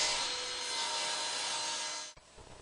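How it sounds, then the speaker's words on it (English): A saw rips steadily through a wooden apron rail, trimming it to width for a child's table, a loud continuous rasping cut that runs for about two seconds before stopping abruptly, leaving quieter shop noise. "Next I cut my apron rails to the exact length that I need"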